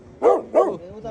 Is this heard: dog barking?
yes